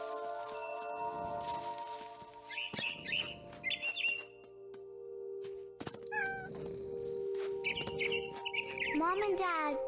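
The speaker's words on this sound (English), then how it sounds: "Then I heard chirping outside my window. It was a barn swallow going back to her nest." In the video game What Remains of Edith Finch, a barn swallow gives bright rising chirps and tweets, mixed with cat meows over steady game music and ambience.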